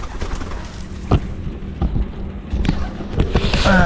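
A bird moves and calls close by among scattered knocks and rustling, with a brief soft coo and fluttery sound near the end.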